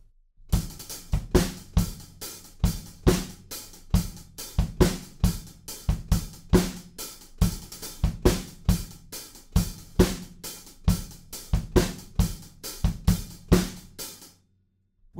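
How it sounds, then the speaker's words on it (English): Drum kit groove from a song tutorial: steady kick drum pattern with driving 16th-note hi-hats, loud and close, running continuously for about fourteen seconds before stopping, no talking. "we're playing 16th notes on the hi-hats"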